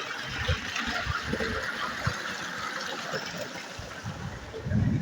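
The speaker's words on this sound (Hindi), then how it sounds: "ये अपनी मोटर चल रहा है केनाल में आओ दोस्तों पानी ये धोरिया में जाए" Water from a running pump motor pours into a farm irrigation channel in cold weather, a steady broadband rush and trickle with a faint engine hum beneath, continuous and close.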